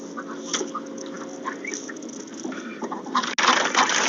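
Farm ducks quack near a barn, a steady low chatter of calls and rustling throughout, swelling louder and busier near the end with a burst of close, noisy activity.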